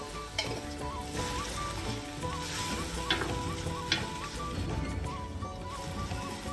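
Egg noodles stir-fry with soy, oyster and chili sauces and chili flakes, a loud continuous sizzle close by with scraping stirs and light clinks of a utensil against the pan throughout.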